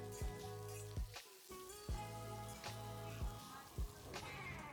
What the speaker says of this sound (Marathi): राहिलेली सर्व तोंडली त्याच्यामध्ये घालून तोंडली छान तेलावर परतून घेऊया